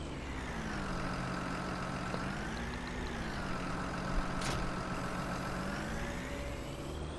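An old International tractor in Farming Simulator 19 hitched to a Fella grassland implement, its engine running steadily with a droning hum whose pitch rises and dips gently, close and continuous.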